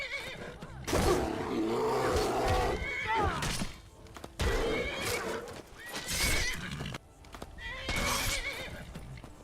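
A horse neighs and whinnies repeatedly in the Skyrim video game, loud close calls mixed with clip-clopping hooves and a few heavy thumps, several bursts spread over the stretch.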